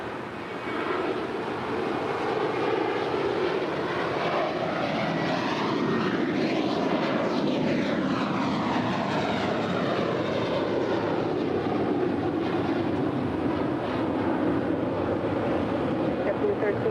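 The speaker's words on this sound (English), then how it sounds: "JetBlue Airways Flight 1374 heading to Newark in an A321, now rolling down to 5 right" A JetBlue Airbus A321 jet rolls down the runway at LAX, a steady loud engine roar with a sweeping, shifting whine across the full length, under faint radio chatter.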